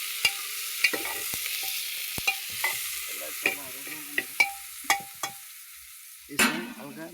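Ingredients are stirred in a cooking pot in a village kitchen, a quick series of close metallic scrapes and knocks from the spoon against the pot over a soft sizzle, ending in a busier clatter.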